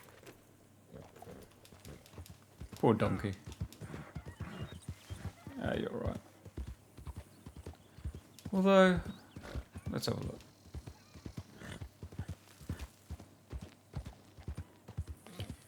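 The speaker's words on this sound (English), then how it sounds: "that horse is going to be well pissed" A horse in Dragon's Dogma 2 clops along at a steady pace and lets out one loud, shrill whinny partway through, with a person talking over the hoofbeats.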